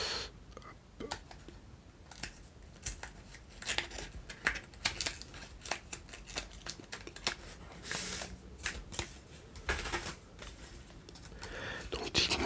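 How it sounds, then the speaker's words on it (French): McDonald's Pokémon card booster packs being opened close up, with soft crinkling, tearing and shuffling of foil and cards in an irregular patter while someone whispers over it. "On va ouvrir directement les autres aussi en même temps."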